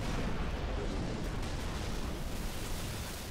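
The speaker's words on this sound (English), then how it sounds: "I threw a grenade." A grenade blast and combat rumble in Halo 3, a dense, continuous booming roar filling the clip at moderate volume with no talk.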